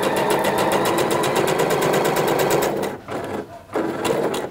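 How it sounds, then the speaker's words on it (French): A sewing machine runs steadily, stitching a seam on a LAPELOSA dress at one centimetre from the edge, a fast even whir for about three seconds, then stopping briefly and starting again in short bursts for backstitches. "on va venir faire une première piqûre à 1 cm du bord"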